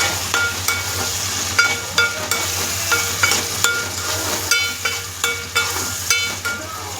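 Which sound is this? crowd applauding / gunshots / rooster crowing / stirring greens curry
stirring greens curry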